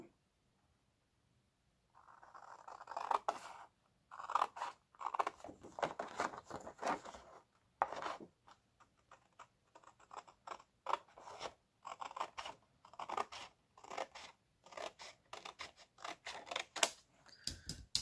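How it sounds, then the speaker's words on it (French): Scissors snip through paper for a Stamperia Magic Forest scrapbook album page, a run of quick, close, crisp cuts in uneven bursts with short pauses between, no talking. "Donc, je vais déjà couper cette partie-là."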